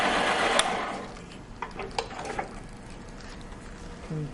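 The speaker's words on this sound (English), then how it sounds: "Just turn on the machine and use your Allen wrench tool to push the roller over." An Advent Model 310 bottle labeling machine runs with a steady mechanical whir, joined by a few light clicks and taps from its rollers, at moderate distance.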